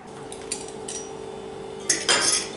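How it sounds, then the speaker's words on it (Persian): Wheat flour and chickpea flour being stirred together in a bowl for pakora batter, giving a few light utensil clinks and scrapes against the bowl, with brighter scraping bursts near the end. "یک کمی همش میزنم که آرد و آرد نخود خام با هم دیگه مخلوط بشن"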